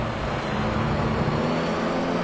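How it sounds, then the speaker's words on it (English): A V8 touring car engine in Gran Turismo 3 drones steadily at high revs during a German touring car race, a loud, continuous, unbroken roar with no talk over it. "I'm pretty certain this V8 engine is definitely overruling"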